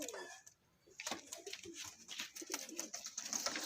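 Young bodarwale pigeons coo softly in a loft, low throaty murmurs broken up by scattered chirps and rustling, with someone talking quietly over them.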